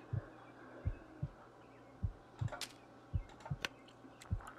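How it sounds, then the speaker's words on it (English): The player's heartbeat in the survival video game The Long Dark pulses low and steady, a soft double-thump repeating about every second, with faint clicks and rustles from the game over a quiet hum. "I don't like hearing my own heartbeat."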